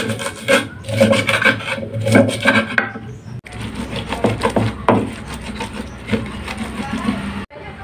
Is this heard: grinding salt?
yes